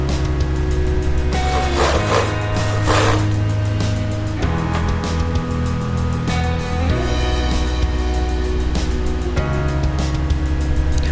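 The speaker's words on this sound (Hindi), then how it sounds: "अब हम इसकी सिलाई कर देंगे।" A sewing machine stitches down a folded shirt placket strip. A continuous close whirring motor carries a fast rattling stitch beat, with small shifts in pitch as it slows and speeds, and no voices.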